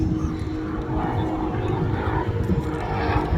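A propeller aircraft flying aerobatics at the Midlands Air Festival air display, holding a steady, continuous engine drone throughout at a moderate distance, with no talk over it.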